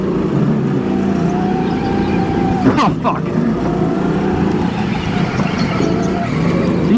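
A kart engine drones steadily while circling a race track, loud and close, with a brief sharp rise in pitch partway through and a voice cursing over it.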